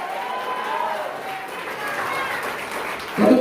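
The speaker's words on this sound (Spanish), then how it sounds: "Un aplauso, Señor, y atrévase a decir gloria a Dios" Church congregation applauding during a worship service, a steady wash of clapping from a crowd, moderately loud, with voices and murmuring mixed in throughout.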